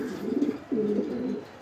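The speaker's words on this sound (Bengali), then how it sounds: "এই যে ডাকতেছে নর, খুবই ভালো মানের নরটা" A male club racing pigeon with pedigree coos nearby, two soft rolling coos in quick succession, clear and alone.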